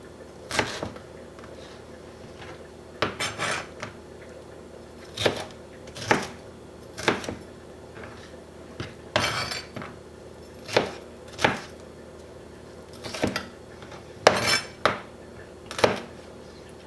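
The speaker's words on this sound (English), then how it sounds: "it's best to cut everything into uniform pieces so they cook at the same time" A knife chops peppers on a cutting board while a quick, balanced meal is prepared at home. Sharp, distinct strikes come about a dozen times in uneven succession, sometimes in quick pairs, close and clear over a quiet room.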